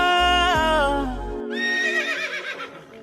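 A horse gives one loud, close whinny that rises and then wavers down over about three seconds.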